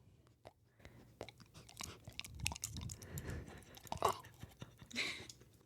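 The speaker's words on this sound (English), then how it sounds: "You're not able to hear the munch of the noodle?" A dog munches noodles up close, wet chewing and crunching in irregular bursts, with faint handling noises between bites.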